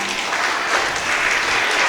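Sustained applause from a crowd of students and audience at a school quiz competition for standard 4 and 5 children, steady and dense throughout with no pauses.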